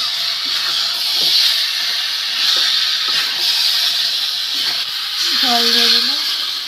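Water poured into a hot cooking pan while making lunch, a loud steady sizzling hiss of steam filling the whole stretch, with faint clinks underneath.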